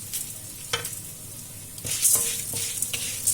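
Coriander seeds, cinnamon bark and stems sizzle and crackle as they dry-roast in a pan, with a steady frying hiss and occasional stirring scrapes. The sound is close and moderately quiet, with no voices.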